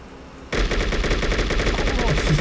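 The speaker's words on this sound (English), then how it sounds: "It's a grenade launcher." Loud, dense weapon fire from a grenade launcher in the True Crime: New York City video game bursts in abruptly after a quiet moment and continues as a sustained rapid barrage.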